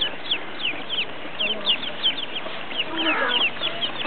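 Hens cluck on a farm where the chickens sit on the eggs, giving a busy run of short, chirpy calls that keep going over a soft outdoor background, with faint voices underneath.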